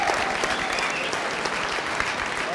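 An audience claps in a steady, full round of applause throughout, without a break.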